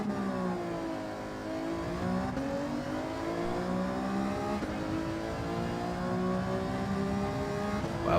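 Racing game car engine revving hard up to 12,000 RPM in a Jägermeister-liveried car, a loud continuous high whine rising and falling through repeated upshifts, with no talk.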